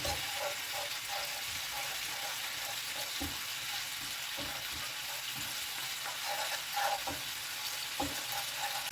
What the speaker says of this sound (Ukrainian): додаю одну ложку столову борошна і просмажую до світлого кольору. На сухій сковорідці.